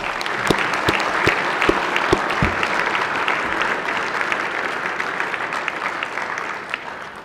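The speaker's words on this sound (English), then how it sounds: "How about a round of applause for Dr. Hutchins and all of our healthcare h" Audience applause fills a state Senate chamber, a steady wash of clapping from many hands that rises early, holds, and slowly tapers toward the end.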